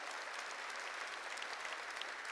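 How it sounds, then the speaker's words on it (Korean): Church congregation applauding during a sermon, steady dense clapping throughout, fairly faint and even with no talk over it. "박수를 치려면 치고 말려면 말고."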